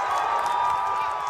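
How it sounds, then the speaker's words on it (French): A crowd of supporters at a Donald Trump rally cheering in a steady continuous roar, distant and sustained throughout without breaks. "sous l'acclamation de ses partisans"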